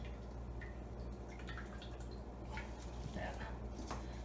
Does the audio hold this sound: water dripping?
yes